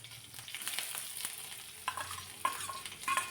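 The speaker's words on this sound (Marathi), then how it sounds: "एक मध्यम साईजचा कांदा बारीक कट करून यामध्ये घातला आणि जास्ती लालसर होईपर्यंत परतायचा नाही, थोडासाच परतून घ्यायचा आहे." Finely chopped medium onion sizzles and crackles in a pan for a light sauté, with quick stirring scrapes and a few sharper pops, fairly quiet and close with no talk.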